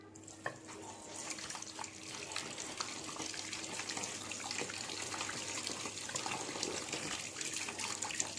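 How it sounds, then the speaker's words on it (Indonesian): Hands are rinsed under running tap water at a sink, giving a faint, steady splashing stream with small irregular spatters. "Setelah itu kita bilas."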